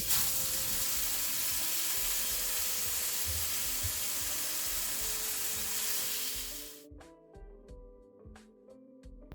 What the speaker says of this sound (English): give it a little test to make sure it's not sizzling too much, but also sizzling enough